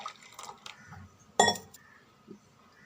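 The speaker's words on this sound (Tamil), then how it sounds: "இன்னும் கொஞ்சம் ஐஸ் வாட்டர் தண்ணி சேர்த்துக்கலாம்." Ice water is poured into a ground mint and buttermilk mix: a few soft liquid splashes, then one bright glassy clink of ice against the vessel, then quieter dribbles, all close by with no talk.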